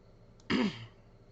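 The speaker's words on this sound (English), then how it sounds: "Just clearing my throat." A single throat clearing, close and fairly loud, one short rough burst of about a third of a second against a quiet room.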